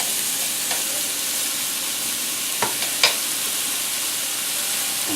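Mushrooms fry in olive oil in a pan for chicken marsala, giving a steady close sizzle and hiss with a few brief stirring scrapes.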